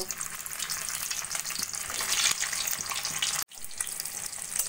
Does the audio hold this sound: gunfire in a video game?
no